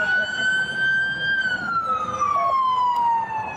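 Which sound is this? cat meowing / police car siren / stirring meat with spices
police car siren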